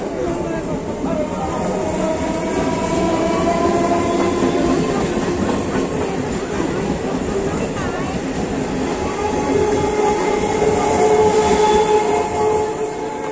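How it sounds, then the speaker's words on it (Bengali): A train passes through a railway station platform in West Bengal with loud clickety-clack of wheels over rail joints and faint wheel squeal, while a public-address announcement plays underneath. "Train passing from platform number 2. Please keep safe distance."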